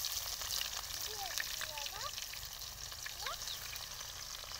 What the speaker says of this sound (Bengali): জিরেটা ভাজা ভাজা হয়ে গেছে, পেঁয়াজ কুচি দিয়ে দেবো।